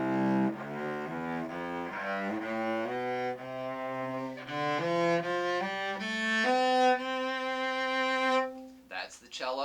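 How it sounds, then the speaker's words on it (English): A bowed cello plays a slow ascending line of sustained, warm notes, solo and close, ending with a brief rustle. "So cello sounds like this."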